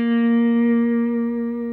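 A blues lead lick on electric guitar rings out as one steady, sustained note with rich overtones, loud and close, holding for under two seconds with no talking.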